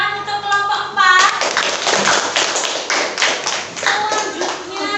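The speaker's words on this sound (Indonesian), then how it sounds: "tepuk tangan untuk kelompok 4" A small group of teachers in a classroom session claps for a presenting group, close, brisk, rhythmic handclaps of a few people, with voices talking over the start and end.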